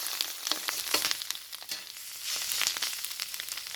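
Minced garlic frying in a pan, a steady close hiss with crackling pops throughout.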